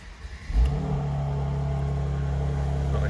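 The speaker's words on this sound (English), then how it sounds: "Now you can hear that 6-cylinder engine" A 2018 Mercedes C43 AMG six-cylinder engine turns over and catches, then settles into a steady, throaty idle with a faint rise in revs, close by and without talk.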